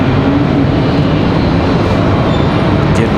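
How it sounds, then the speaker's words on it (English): An American Airlines Boeing 737 jet sits at the end of the runway at Raleigh Durham International, readying for departure; a steady, loud broadband engine roar holds evenly throughout with no talk. "We've got an American 737 sitting at the end of the runway"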